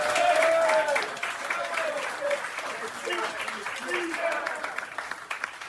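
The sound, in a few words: audience applause for Jake Asman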